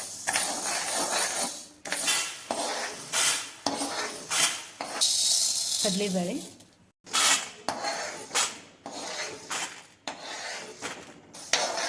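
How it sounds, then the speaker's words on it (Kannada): Lentils roast in a pan over a medium flame, stirred with rhythmic, close scraping and clinking of a utensil against the pan in repeated strokes with short pauses between them. "ಮೀಡಿಯಮ್ ಫ್ಲೇಮ್ನಾಗ ಇಟ್ಕೊಂಡು ಸ್ವಲ್ಪ ಕೆಂಪಾಗುವಂಗಿವನ್ನ ಹುರ್ಕೋಬೇಕು"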